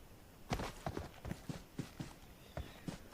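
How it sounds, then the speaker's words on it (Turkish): Footsteps in the video game PUBG Mobile thud in a steady walking rhythm of about a dozen quiet, evenly spaced steps, heard alone with no talk. "Hala ayak sesi var."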